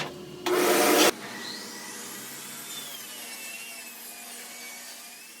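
A table saw cuts a 3/4-inch-thick wood piece in a loud, brief burst of broadband whine lasting under a second. A quieter saw hum carries on afterward.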